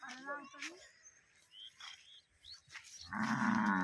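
A large cow on a farm lets out a loud, close moo near the end, after stretches of a person talking and faint bird chirps in the background.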